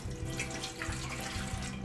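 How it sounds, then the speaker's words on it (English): Water from a tap runs steadily into a cup, measured out as the liquid for bread dough, a continuous close splashing and gurgling with no talk. "So essentially what we're going to start with is 1 cup of water. You're going to pour that."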